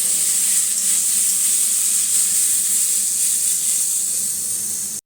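Chicken sizzling steadily in a pan on a home kitchen stove, a continuous bright frying hiss that holds even and loud for about five seconds before cutting off abruptly.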